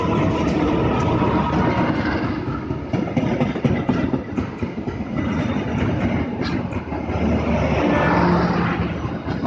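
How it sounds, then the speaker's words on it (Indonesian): The Serayu Pagi passenger train from Pasar Senen to Purwokerto passing straight through a station, a loud, sustained roar and rattle of cars rolling by close up for the whole stretch, with no talking. "melintas langsung kereta api Serayu Pagi dari stasiun Pasar Senen tujuan akhir stasiun Purwokerto"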